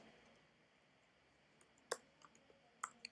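Light keyboard clicks while typing React Native code, a few sparse, sharp taps and a short cluster near the end over quiet room hiss, with no voices.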